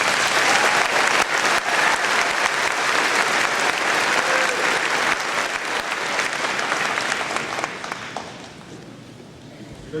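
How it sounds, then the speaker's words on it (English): Audience applause for graduating students at the Southeastern Oklahoma State University 2008 fall commencement ceremony: dense, sustained clapping from a large crowd that thins and tapers off over the last couple of seconds. "Let's give these students a big round of applause."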